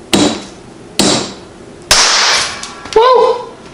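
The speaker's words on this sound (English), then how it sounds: "I just kept tapping it with a hammer until it popped out" Three sharp metallic hammer taps about a second apart as a bullet is knocked out of its brass casing, then a ringing clink as it pops free, close and loud.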